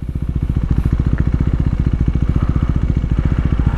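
Motorcycle engine running hard with a fast, even pulsing exhaust note during a clutchless gear shift, loud and close, with no talking.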